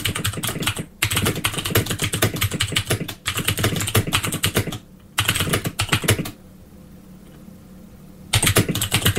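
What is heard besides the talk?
typing text on a VIC-20 computer keyboard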